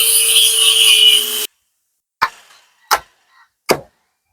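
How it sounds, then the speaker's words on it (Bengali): A machine cuts through a tree branch with a loud, steady, buzzing whine for about a second and a half, then cuts out. Three short scraping knocks follow in the quiet. "মেশিন দিয়ে কাটা হচ্ছে।"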